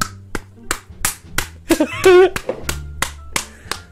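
One person claps his hands in a slow, loud, evenly spaced rhythm close by, about a dozen sharp claps, with a brief vocal sound in the middle.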